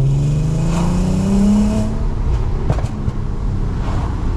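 An Audi A3 3.2 Quattro with a VR6 engine revs and pulls away, heard from inside the car with the windows down. The engine note rises and then settles into a loud, steady drone.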